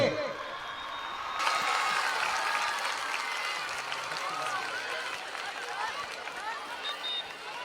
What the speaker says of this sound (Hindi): सभी तरफ से तालियां बजनी चाहिए।